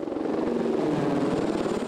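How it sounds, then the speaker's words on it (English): Helicopter flying over a community gathering with police and honor guard, a steady rhythmic rotor chop and engine drone, fairly close and continuous for the whole moment with no talk. "a flyover helicopter"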